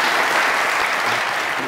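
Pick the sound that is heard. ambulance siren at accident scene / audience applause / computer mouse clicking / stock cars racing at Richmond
audience applause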